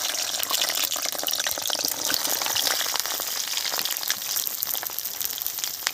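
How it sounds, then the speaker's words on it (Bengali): Eggplants frying in hot oil for a Bengali tel jhal dish, a loud, close, continuous crackling sizzle with dense spattering pops throughout. "গরম হয়ে গেছে তেল দিয়ে দিচ্ছি বেগুনগুলো তেলের মধ্যে দিয়ে দিলাম"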